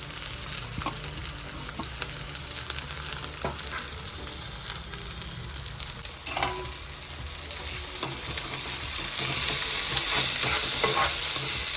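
Onion, carrot and capsicum frying in a pan, a continuous close sizzle with scattered clicks of a spoon stirring, the hiss growing louder and brighter toward the end.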